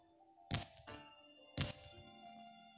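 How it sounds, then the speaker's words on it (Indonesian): Ingredients exploding during summoning in the video game Monster Museum, two sharp thumping bursts about a second apart, each with a short ringing tail, faint and isolated. "bahan-bahannya meledak semua dan toplesnya jalan sendiri"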